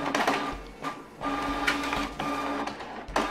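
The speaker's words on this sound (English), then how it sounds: "it is printing out both of these pages or two copies of the same document very quickly" Canon PIXMA TR4522 inkjet printer printing two copies of a document: close mechanical whirring and clicking of paper feed and print head, with bursts of motor noise and short pauses between passes.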